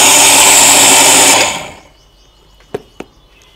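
A mixer grinder whirs loudly and steadily as it grinds sugar fine, then winds down and stops, followed by two sharp clicks.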